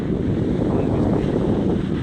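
Seashore wind blowing beside a boat on the beach, a constant low buffeting roar across the microphone, loud and close with no other sounds.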